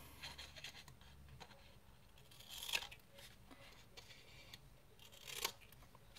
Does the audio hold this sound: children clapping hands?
no